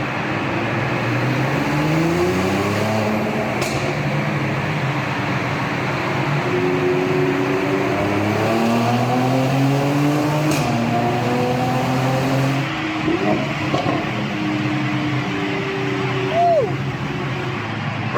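A car drives through the Lincoln Tunnel, its engine and road roar booming and reverberating loudly and continuously, with shifting engine tones and occasional brief higher whines from other traffic.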